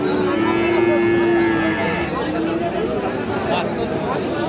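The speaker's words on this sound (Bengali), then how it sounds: "এই যে এখানে একটা হলিস্টিয়ান ফ্রিজিয়ান জাতের সার বাছুর দেখতেছি।" A Holstein Friesian bull calf at a cattle market gives a long, fairly close moo near the start, with a fainter lowing call later. It stands out over a steady murmur of crowd chatter and market noise.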